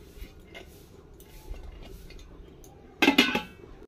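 A lid goes onto a cooking pot of simmering pizza sauce in a home kitchen: after a quiet stretch, a short metallic clatter rings out near the end and fades quickly.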